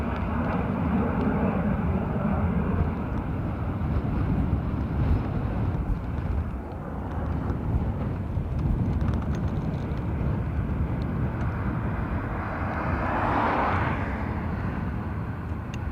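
Airbus A340 four-engine jet airliner of USC Aero taking off at Dublin Airport: a broad, steady roar of jet engines heard from a distance, continuous and fairly loud with wind buffeting the microphone throughout.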